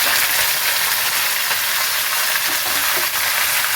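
Curry leaves hit hot oil already crackling with mustard seeds and cumin for a ridge gourd and lentil tamarind curry. A loud, dense, continuous sizzle and spatter is heard close up, with no talking.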